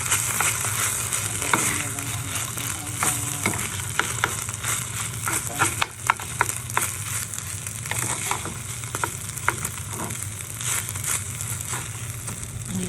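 Rice being sautéed in a pan while cooking for an obento, a steady close sizzle and frying hiss with scattered stirring scrapes and crackles throughout, no talk.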